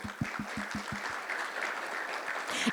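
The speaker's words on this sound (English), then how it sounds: "Omar, give him a round of applause while he walks up here." Applause from an expo audience as panelists walk onto a stage, steady clapping with a few rhythmic low thumps at first, swelling again toward the end.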